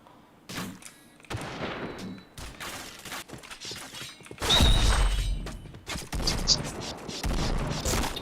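Gunfire in a first-person shooter video game, bursts of rapid automatic shots and sharp single cracks with a heavier blast midway, close and loud, mixed with players talking excitedly.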